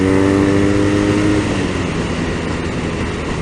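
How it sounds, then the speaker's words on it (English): BMW R nineT Racer motorcycle under throttle with a gear shift, a loud engine drone whose pitch falls as the shift happens partway through, then continues steady with strong wind noise. "I tried to give a little bit more throttle, and that was a lot smoother shift transition"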